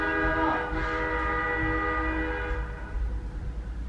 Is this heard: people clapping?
no